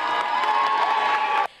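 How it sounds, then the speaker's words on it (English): Crowd of college students cheering and whooping loudly inside a gymnasium as the new college president enters for her inauguration, a dense sustained roar that cuts off abruptly near the end. "Becker students cheer"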